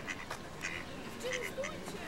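Ducks on an outing in Poland give a few quacks at a modest distance, scattered over steady outdoor background, while people talk nearby.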